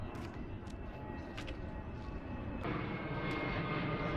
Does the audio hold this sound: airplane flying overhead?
yes